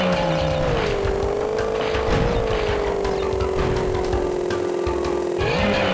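Vehicle engine from the PS1 game Crash Bandicoot 3, a steady loud droning motor tone with pitch dips and rises as it revs, heard alone under continuous game sound.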